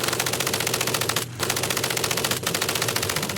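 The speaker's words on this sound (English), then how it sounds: "MG-42 machine gun." A German MG-42 machine gun fires a fast, continuous rattling burst at close range, loud and sustained, with two very short gaps in the stream of shots.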